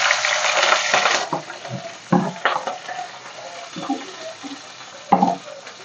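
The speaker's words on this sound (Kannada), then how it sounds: "ಇವಾಗ ಹಸಿಮೆಣಸಿನ್ಕಾಯಿನ ಈರುಳ್ಳಿನೂ ಕಟ್ ಮಾಡಿ ಇಕ್ಕಿರೋದು ಹಾಕ್ತಾ ಇದ್ದೀನಿ" Chopped green chillies and onions dropped into hot oil for sweet corn ghee rice give a loud, close burst of sizzling that quickly settles into lighter crackles, with a few clinks from the pan.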